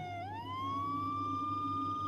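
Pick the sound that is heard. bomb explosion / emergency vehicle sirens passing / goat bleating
emergency vehicle sirens passing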